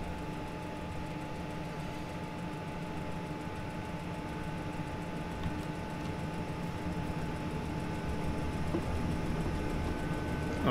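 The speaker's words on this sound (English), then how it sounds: "Okay, this train's ready to depart." A passenger train in Train Simulator 2019 pulls away from a station with a steady, quiet engine hum and faint electric whine that slowly builds, with no talking.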